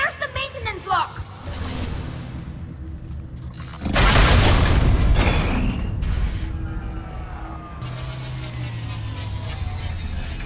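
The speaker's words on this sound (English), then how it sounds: "Here you can also see what happens if a shockwave does hit" Shockwave hit from the Geth Dreadnought in Mass Effect 3: a sudden heavy booming impact with a long roaring rumble that slowly fades, loud and close, with a voice speaking before it and game sounds around it.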